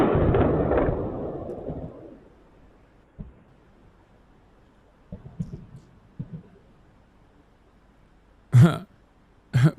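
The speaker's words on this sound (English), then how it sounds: "they're saying that there's explosions being heard on the Tehran cam" Explosions picked up by a live street camera in Tehran: a deep, rolling boom fades out over a couple of seconds, then faint distant thumps follow, and two sharper bursts come near the end.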